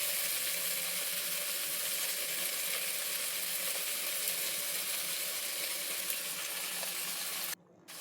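Soaked, washed lentils hiss and crackle in hot tempering oil for a Karnataka-style bele saru, a loud continuous sizzle close up that cuts off abruptly near the end.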